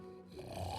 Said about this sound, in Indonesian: suara ngorokan kamu tuh merdu